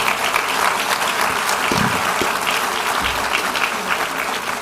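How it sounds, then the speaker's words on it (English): Audience applause at an alumni awards and celebration dinner, a steady wash of many hands clapping throughout, fairly loud and even from start to finish. "Join me in giving them a round of applause"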